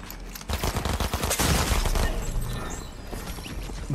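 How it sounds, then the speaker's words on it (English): Dual micro SMGs firing in Fortnite Battle Royale, rapid loud bursts of automatic gunfire rattling close by, dense in the middle and trailing into scattered shots. "Dual micro SMGs."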